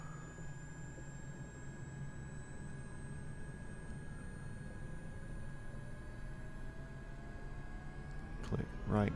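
Helicopter turbine in a flight-simulation video game winding up toward flight idle, a steady rising whine over a low engine drone that stays even and continuous, with a brief rattling burst near the end and talk running underneath.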